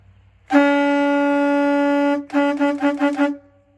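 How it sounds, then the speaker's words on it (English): A Freightliner truck's loud, brassy air horn blares continuously for nearly two seconds, then sounds in several short rapid toots before stopping. "this is the air horn"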